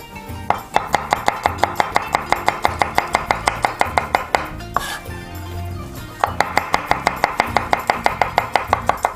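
Skinned sausages being finely chopped with a knife on a board, a fast, steady run of sharp, close taps with a brief pause partway through.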